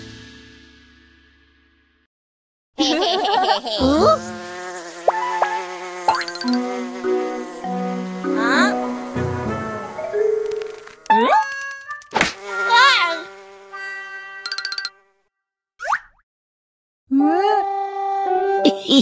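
Cartoon bugs buzz in a swarm, with a loud whiny drone and warbling tones joined by jingly effects and brief gaps, and no talking over them.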